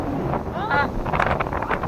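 Strong wind buffets the microphone in gusty rumbles, with brief voice-like fragments mixed in.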